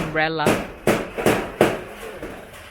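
A hammer drives umbrella nails into roof sheets on a budget bungalow build in the Philippines, four sharp, evenly spaced strikes ringing close by after a brief voice.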